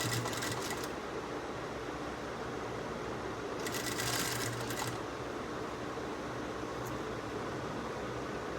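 A sewing machine stitches lace onto a blouse, a steady close mechanical whir with a couple of brief louder bursts, running alone without talk.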